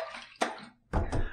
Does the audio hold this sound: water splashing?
yes